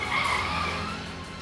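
A car's tires squeal as it skids hard to a stop, a loud sustained screech that fades out over about a second and a half, alone without voices.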